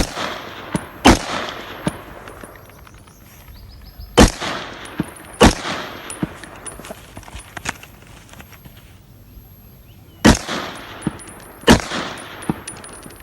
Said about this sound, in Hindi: ये राइफल जो सेना के जवान इस्तेमाल कर रहे हैं, सुनिए इसकी धमाकेदार आवाज।